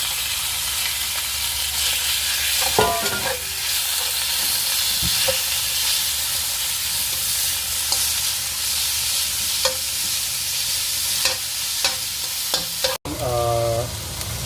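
About 250 grams of pork browns in a little oil in a pan, making a loud, continuous sizzle close by, with scattered scrapes and knocks from stirring.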